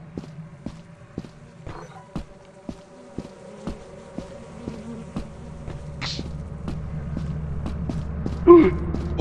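Bees buzz in the Lethal Company video game, a low steady drone that swells slightly toward the end, under a regular tick of in-game footsteps and a couple of brief sharp noises.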